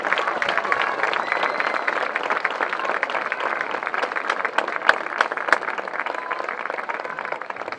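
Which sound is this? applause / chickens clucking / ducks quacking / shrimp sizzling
applause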